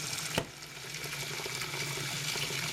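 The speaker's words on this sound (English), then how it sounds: "So I'm just going to put hot water in that bowl" Hot water streams steadily into a bowl of dried hash browns for a breakfast casserole, a continuous near splashing rush that lasts the whole stretch after one brief knock at the start.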